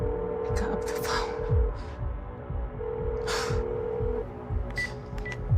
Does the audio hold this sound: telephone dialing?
yes